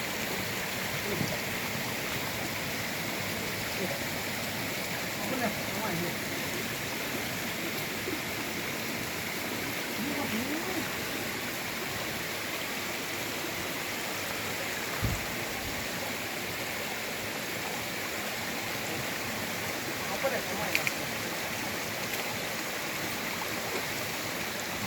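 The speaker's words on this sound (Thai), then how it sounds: "เสียงน้ำตกได้อันนี้นะ" A waterfall roars steadily, a dense, unbroken rush of falling water that fills the whole recording with constant noise.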